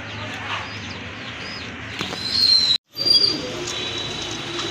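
Rajgolla pigeons kept in a coop with their chicks coo softly at close range over steady low background noise, with faint chirps and one brief dropout partway through.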